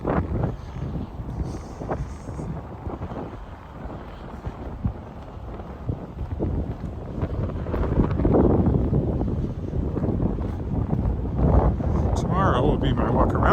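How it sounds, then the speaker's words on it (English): Gusty wind blasting across an open lakeside walking path in Regina in early March, a loud rumbling buffet on the microphone that swells stronger midway and stays constant, with a faint voice under it. "Now you get an unimpeded view of the lake and an unimpeded blast of wind."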